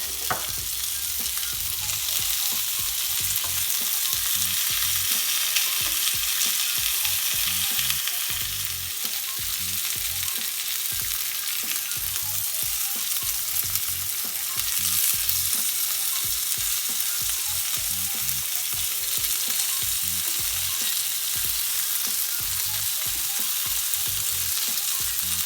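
Garlic frying in oil in a pan beside lamb chops, a loud, continuous close-up sizzle with crackling that runs throughout with no speech.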